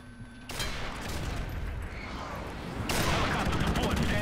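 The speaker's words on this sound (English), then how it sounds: "Friendly airstrike on the way." Friendly airstrike in a shooter video game: heavy rumbling blasts and dense fusillade-like bursts, loud and continuous, with a sharp surge partway through as more strikes land.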